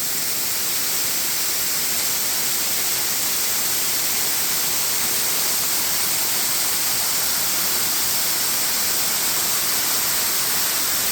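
Rushing water from a waterfall at night, a dense, steady hiss of falling water heard close and loud without pause, alone with no voices.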